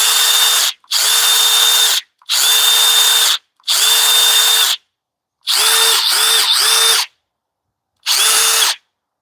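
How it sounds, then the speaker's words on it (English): A Harbor Freight Hercules brushless drill whirs loud and close in six separate bursts of about a second each, with short silent gaps between them and a quick stutter in the fifth. "It sounds pretty beefy. It's brushless."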